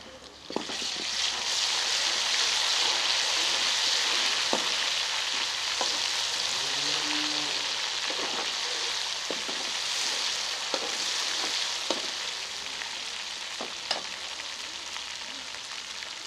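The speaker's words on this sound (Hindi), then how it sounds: "एक चम्मच अदरक लहसुन का पेस्ट शामिल कर लेंगे इस मौके पे।" Ginger garlic paste sizzles steadily in hot oil with browning onions for a fish karahi, a continuous loud frying hiss broken by occasional scrapes and knocks of a stirring spoon against the pan.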